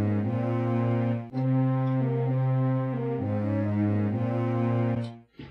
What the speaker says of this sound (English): So the channel 2 notes are going to be going through this French horn patch.